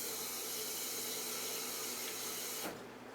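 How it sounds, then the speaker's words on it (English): Cold tap water runs steadily to rinse a beer glass before pouring an Oktoberfest Märzen lager, a continuous close hiss that stops abruptly near the end, with no talking. "I'm going to give my glass a quick cold water rinse."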